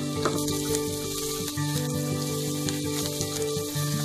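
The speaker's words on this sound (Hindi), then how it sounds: "अब इसमें ऐड कर देंगे ये अदरक और लहसुन और इसे हम 30 सेकेंड के लिए सौते कर लेंगे" Ginger and garlic sautéing in melted butter for spinach soup, a close, continuous crackling sizzle with fine spattering pops and no talk.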